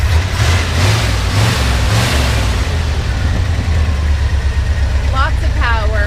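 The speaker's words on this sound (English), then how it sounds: "we're gonna have Jason start this baby up so we can hear it purr." Heard up close, a 1968 Ford F250 bumpside truck with a four-speed sits idling with a deep, continuous rumble and small surges early on. A voice briefly cuts in near the end.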